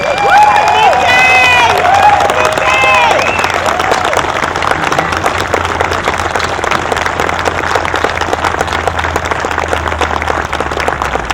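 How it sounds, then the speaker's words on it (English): Audience at the Old Bridge High School 2020 graduation ceremony applauds and cheers the graduating class, a dense sustained wash of clapping with shouts and whistles rising early on, loud and continuous throughout. "let's stand up, let's applaud them"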